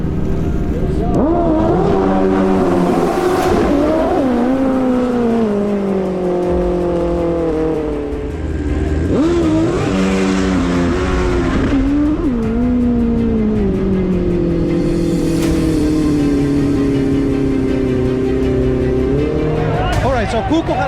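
Race jet skis blast down a drag course at a Hydrodrags world championship, with loud, sustained high-revving engine whine rising and falling across several passes and an announcer talking over it.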